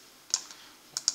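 A computer keyboard tapped twice in quick pairs during a Ctrl+V paste, light close clicks that are fairly faint against a quiet background.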